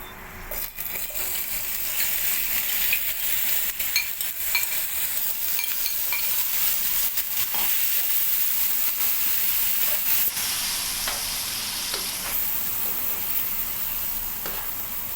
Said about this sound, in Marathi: पनीर मॅरिनेट केलेला एक साईडला थोडासा भाजून घेता.